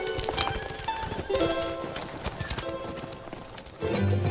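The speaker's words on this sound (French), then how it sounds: "Des chevaux sauvages parcourent les vallées les plus reculées de ce territoire." Herd of wild horses gallops through a remote valley, a dense, fast clatter of hooves with a steady driving rhythm, fairly close and loud, with a low rumble swelling near the end.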